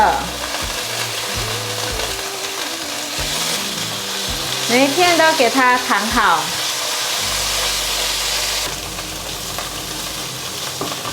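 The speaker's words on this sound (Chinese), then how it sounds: "豆腐放進來煎，把豆腐鋪平，兩面給它煎成金黃色。" Tofu slices pan-frying in oil for a loofah and tofu udon dish, a steady close sizzle and crackle running throughout, with a person speaking briefly over it.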